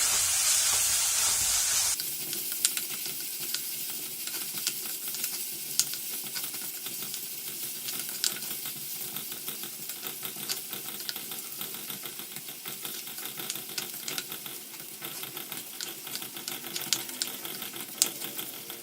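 Chopped onion sizzles in the pan of a coconut-free chilli fish curry, a steady close hiss with fine crackling that runs unbroken and alone.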